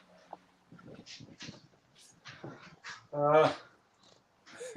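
A dog growls and whimpers in short, quiet bursts close by, with one louder whining growl in the middle.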